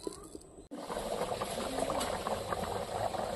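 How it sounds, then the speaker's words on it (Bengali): Mutton curry gravy with slit green chillies boils in a pot, a steady bubbling simmer that starts suddenly after a short quiet opening and stays close and even. "বন্ধুরা ঝোলটা ফুটে গেছে"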